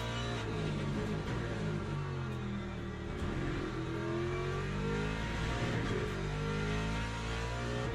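Race car engine in the Le Mans Ultimate sim racing game, a steady loud drone with shifting pitch throughout, under which the underside can be heard scraping and bottoming out.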